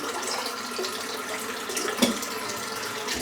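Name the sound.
rinsing a razor under running tap water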